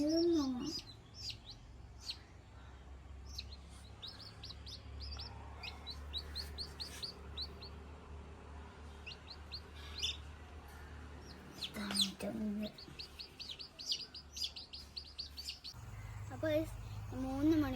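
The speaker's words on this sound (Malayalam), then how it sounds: "ഇന്ന് ഞങ്ങളുടെ വീട്ടിൽ വിരിഞ്ഞ കോഴിക്കുഞ്ഞുങ്ങളാണിത്." Newly hatched chicks at a home chirp in repeated high, thin peeps, near and continuous in bursts, with a hen's low clucks and someone speaking at times.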